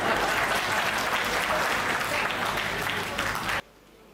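Loud, dense audience clapping at a Hindi poetry gathering, sustained for several seconds before cutting off abruptly into near silence.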